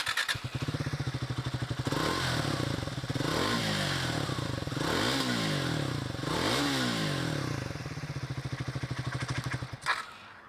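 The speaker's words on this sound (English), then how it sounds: "And if we hear the exhaust note of the Triumph," A Triumph Speed 400 motorcycle's exhaust note, a thin but bassy engine drone with several rev sweeps rising and falling, loud and steady before cutting off near the end.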